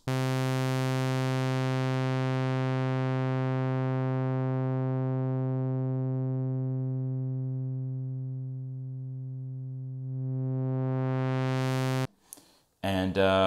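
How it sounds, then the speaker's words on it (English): An Oberheim OB-X8 synthesizer holds a bright, buzzy sustained tone while a filter with no resonance sweeps slowly closed, then quickly reopens before the note cuts off and a voice starts talking. "So here we go for a filter sweep with that sort of tone you're listening to there."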